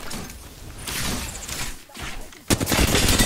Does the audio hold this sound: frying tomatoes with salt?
no